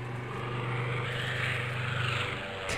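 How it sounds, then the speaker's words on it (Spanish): A helicopter flies overhead in the Minecraft video game with the Ultra Mods pack, making a steady droning engine rumble that continues loud throughout the clip without any break. "¿qué hace el helicóptero este por aquí?"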